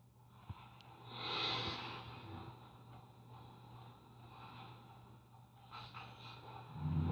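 A person takes a long, deep sniff of laundry washed in Gain Botanicals detergent, a soft, drawn-out inhale followed by gentle breathing, quiet and close.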